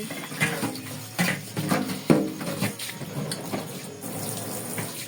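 Water running into a sink while dishes are washed, splashing and clattering in irregular bursts with a steady flow beneath, close and fairly loud.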